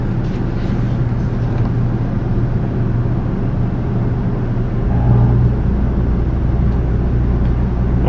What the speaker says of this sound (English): that was the initial compressor kicking on